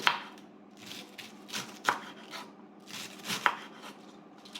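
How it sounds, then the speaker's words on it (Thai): A knife chops bok choy on a board, crisp repeated cuts at an uneven pace, close and fairly quiet, with no talking. "นี่ก็คือผักกวางตุ้งค่ะ หั่นผักกวางตุ้ง"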